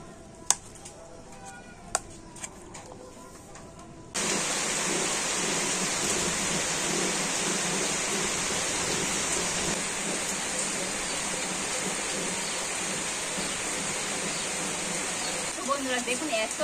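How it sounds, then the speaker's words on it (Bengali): Heavy monsoon rain pours down in a dense, loud, steady roar that starts abruptly after a few seconds of quieter sounds with sharp knocks. The downpour continues unbroken to the end. "দেখুন এত জোরে বৃষ্টি এসছে"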